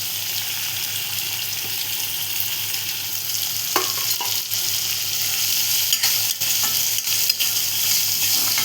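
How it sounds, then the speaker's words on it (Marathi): Chopped onion frying in a pan for a bitter gourd and chana dal curry: steady continuous sizzling with occasional scraping stirs, close and alone, no voices. "इथे आपण कांदा टाकून घेतलेला आहे."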